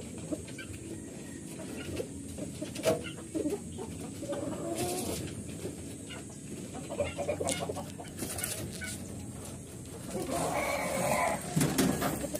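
Domestic chickens cluck and squawk in a backyard coop setting, including a hen with a digestion problem, with steady clucking through the background and louder bursts near the end, mixed with rustling.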